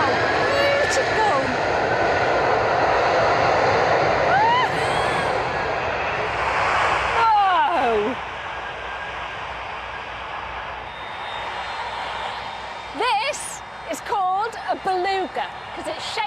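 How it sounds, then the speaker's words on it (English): An Airbus Beluga, a whale-shaped transport aircraft, roars steadily overhead with a broad engine rumble that fades slowly, under a narrator's voice throughout. "it's catching a lift on the strangest looking aeroplane you will ever see"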